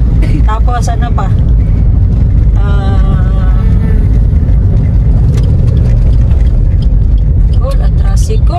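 A motor tricycle engine runs steadily throughout with a low, continuous rumble, close and fairly loud, while people talk over it.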